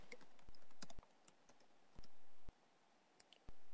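Keystrokes on a computer keyboard as a Metasploit command is typed: several sharp, separate clicks at an uneven typing pace, close and fairly quiet.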